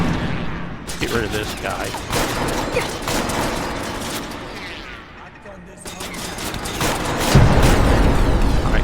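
Turret gunfire and shooting in a Fallout video game: dense, loud volleys of automatic fire and booming impacts, a brief lull, then a heavy burst, with a voice talking over the shooting.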